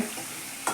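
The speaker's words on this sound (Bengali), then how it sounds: "লাল লাল করে ভেজে নিতে লাগবে" Brief, dense hiss of potatoes frying in hot oil, a steady crackle with a slight surge near the end, no voices.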